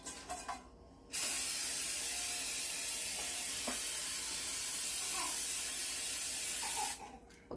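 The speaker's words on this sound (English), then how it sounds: "I have an 8-inch cake pan that I am using, and I'm going to spray it on the inside" Cooking spray hissing from a can into the inside of an 8-inch cake pan, one close, steady spray lasting about six seconds, with faint handling clatter before and after.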